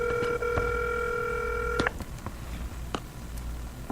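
A telephone dialing a call as a second attempt to reach someone: a rapid string of touch-tone beeps, then a long steady dual tone that cuts off, followed by a few faint clicks and quiet room noise, with no voices.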